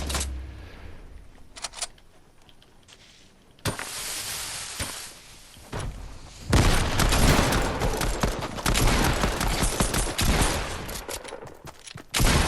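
Shotgun blasts from the video game Fortnite ring out amid dense game noise, with sharp loud cracks standing out over a continuous busy background that grows louder in the second half.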